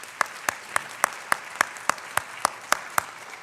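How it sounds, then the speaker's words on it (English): Clapping at a college honors night, a sparse, evenly spaced run of sharp single claps about three or four per second, close and clear against a quiet room. "let's give her a round of applause"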